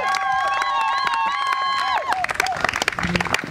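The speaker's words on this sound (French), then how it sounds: "On applaudit très très fort." Cheering and applause at a civil wedding ceremony for Miche and Ketsia: sustained high cheering voices for about two seconds, then dense, uneven clapping from a nearby crowd.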